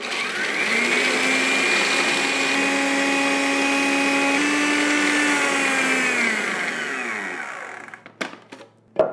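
A kitchen blender grinds garlic for pesto, a loud steady whirring motor running alone for several seconds before spinning down, followed by a few sharp knocks.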